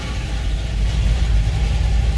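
The engine of a 1978 Ford Courier idles as a steady, low, even rumble, close and continuous and without revving, with no talking.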